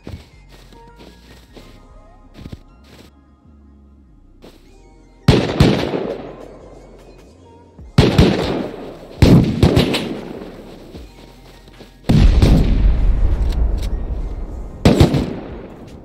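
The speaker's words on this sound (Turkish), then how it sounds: "Orada taret olduğunu düşünmemiştim." Turret gunfire in the survival game Rust, loud sharp bursts of shots with echoing tails, several volleys spaced a few seconds apart over quieter in-game ambience.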